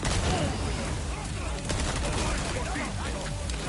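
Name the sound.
gunfire in Resident Evil 4 video game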